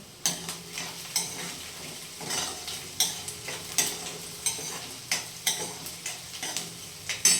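Onions fry in a pan while being browned for a bitter gourd dish, a soft sizzle broken by regular scraping stirs about twice a second, close and moderately quiet, with no speech.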